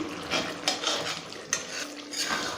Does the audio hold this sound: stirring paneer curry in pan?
yes